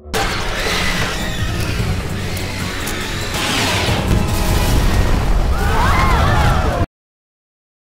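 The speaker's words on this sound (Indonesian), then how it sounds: "Dan ya, terjadi ledakan yang menghancurkan gerombolan alien sekaligus mengejutkan semua orang." Film-scene explosion from a final firework blast that wipes out a horde of aliens: a sustained, loud booming rumble with crashing debris over about seven seconds, then abrupt silence.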